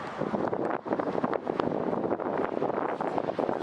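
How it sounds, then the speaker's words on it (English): Strong wind buffets the microphone at the seaside in Blackpool at sunset, a loud, steady roar with gusty surges throughout and no talking. "even though it is really windy"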